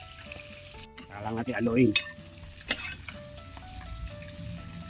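Catfish and chicharon bulaklak fry in hot oil with a steady crackling sizzle, broken by a few stirring scrapes and clinks near the pan; a short bit of talk comes in partway through.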